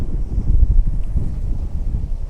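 Steady wind roars across a sailboat at sea on an Atlantic passage from the Azores to the UK. The low, rumbling gusts fill the whole stretch with constant buffeting.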